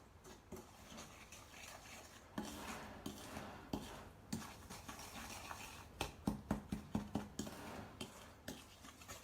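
A wooden spoon works butter into cowboy cookie dough in a bowl, producing soft rubbing and a quickening series of knocks against the bowl, quiet and close.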